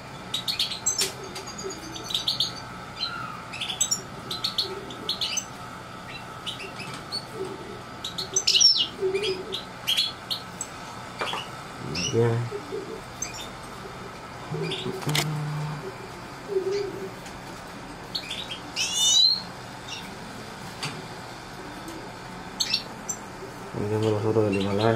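Canaries and goldfinches singing in breeding cages, scattered bright chirps and trills coming and going over a steady low background, with someone talking quietly at times.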